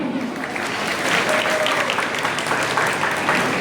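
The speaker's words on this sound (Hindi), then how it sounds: "जोरदार ताली।" Crowd at a public speech gathering breaks into loud applause, continuous thick clapping from many people that holds steady and swells slightly, with faint voices beneath.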